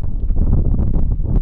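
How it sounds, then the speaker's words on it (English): Strong wind buffets a microphone outdoors at night, producing loud, rumbling low-frequency blasts that pulse and flutter without pause for the whole moment. "It's super, super windy right now."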